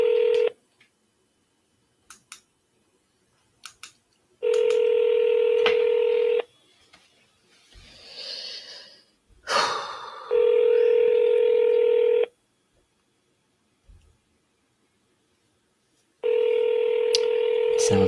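Landline telephone being dialed and ringing: steady repeated ring tones in long bursts separated by silence, with brief handling noises and a short stretch of muffled sound between rings.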